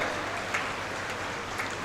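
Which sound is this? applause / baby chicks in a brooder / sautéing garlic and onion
applause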